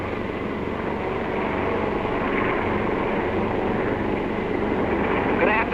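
Heavy bomber engines drone loud and steady in flight, a dense continuous roar of damaged motors with the plane losing altitude, filling the scene without pause.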